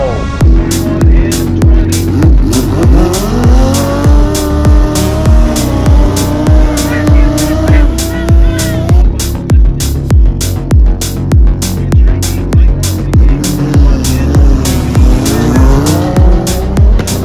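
Race vehicles roar past at Bradenton Motorsports Park in Bradenton, Florida, engines loud and continuous with repeated sharp tire squeals and skids in a steady rhythm, close and dominant throughout.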